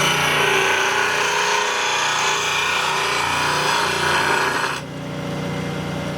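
A lathe tool is ground on a bench grinding wheel with a PSI sharpening system, giving a loud, steady abrasive hiss and whine up close that cuts off near the end, leaving the motor humming.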